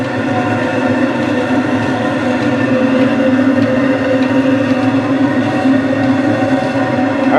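A homemade shop heater burning straight used motor oil produces a loud, steady roar and rumble, a constant droning flame noise without pause.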